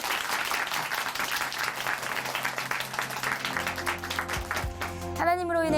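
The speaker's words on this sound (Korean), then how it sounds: "다시 한번 박수 보내드릴게요." Applause from a church congregation at Chuncheon Hanmaum Church after a testimony, a dense sustained clapping that fades out as music begins near the end.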